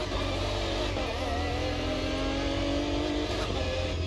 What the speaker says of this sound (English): Also the gearbox whine.